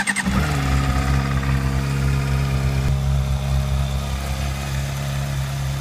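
Honda CBR 600 RR sportbike with its original stock exhaust, a steady, loud idle with a smooth low hum, after a brief blip at the start.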